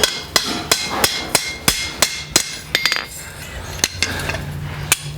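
Sharp, ringing hammer blows on steel against an anvil while forging a hinge, about a dozen strikes in an uneven rhythm with brief pauses, close and clear.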